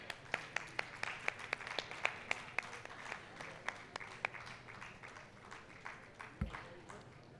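An audience at a question-and-answer session claps in a thin, fairly faint patter of sharp individual hand claps that thins out toward the end, with a brief low thump near the close.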